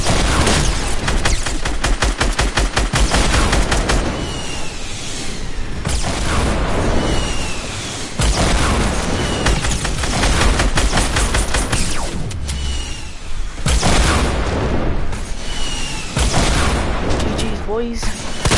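Rocket launcher fire and blasts in a Fortnite match: dense, rapid volleys of shots and booming explosions rattle on almost nonstop, with players talking over the din.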